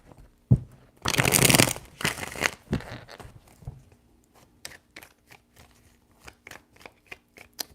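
A deck of tarot cards is shuffled and handled up close: a couple of loud riffling bursts early, then a series of sharp light card snaps and taps spaced irregularly.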